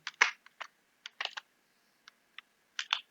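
Keys tapped on a computer keyboard in short, irregular clusters of clicks, close and clean against near silence, with no voices.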